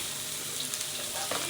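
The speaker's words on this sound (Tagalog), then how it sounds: "Ayan, gisahin lang natin sa saglit." Carrots and beans sautéing in cooking oil in a pan for pancit bihon, a steady close hiss of sizzling with faint stirring scrapes throughout.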